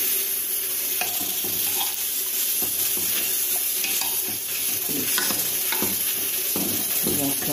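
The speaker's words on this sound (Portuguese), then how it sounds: "agora eu vou virar a carne" Beef hump searing in a pressure cooker while being turned, constant close sizzling with scraping and stirring clatter throughout.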